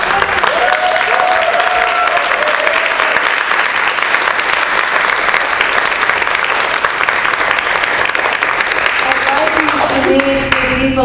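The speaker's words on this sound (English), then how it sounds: "I think we should give another round of applause." Sustained audience applause at a foundation gathering, a dense, even wash of many hands clapping for the full stretch with some crowd noise, and a voice briefly emerging near the end.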